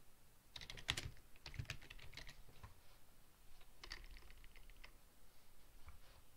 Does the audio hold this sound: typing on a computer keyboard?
yes